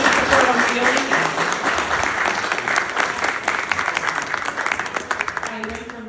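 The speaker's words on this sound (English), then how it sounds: "for everyone, a round of applause for you guys" Sustained applause from a crowd at a Brooklyn police precinct commander ceremony, a dense wash of clapping that continues for several seconds and gradually thins, with voices mixed in underneath.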